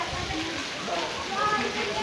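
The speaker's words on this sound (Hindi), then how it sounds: "अब बारिश हो रही है और बारिश बहुत तेज बारिश हो रही है।" Heavy rain pouring down during a storm in Lahore, a constant close hiss of water striking surfaces, with a person talking over it.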